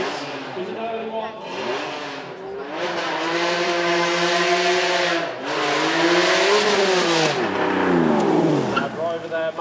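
A Honda NSX supercar on track at the Beaulieu Supercar Weekend revs hard, its engine note climbing and falling in repeated sweeps, loud and close, with a commentator talking over it.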